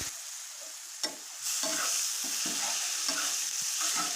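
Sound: stir-frying chow mein in pan

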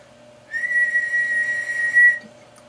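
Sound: person whistling into a microphone to test a radio amplifier

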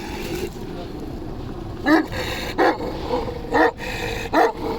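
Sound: dog growling

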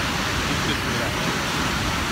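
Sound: Gullfoss waterfall, Iceland, heavy water flow

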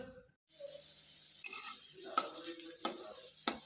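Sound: onions frying in a pan

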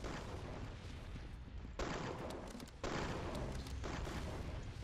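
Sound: gunshots in the video game Arsenal

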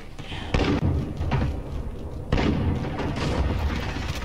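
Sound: cruise missile launch in a video game

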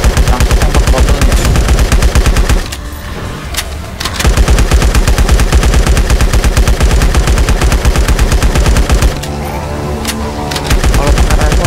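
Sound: gunfire shooting zombies in video game LifeAfter

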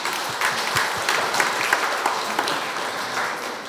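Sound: audience applause at education forum

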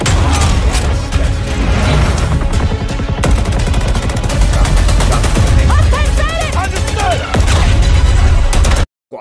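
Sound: shotgun firing in Battlefield 2042 trailer, video game

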